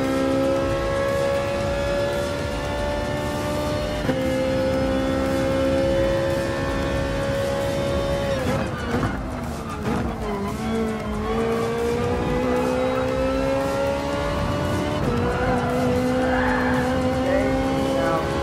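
Race cars in Gran Turismo Sport, a close engine drone rising and falling through gear shifts, with tires squealing and skidding through corners and other cars roaring past over about eighteen seconds.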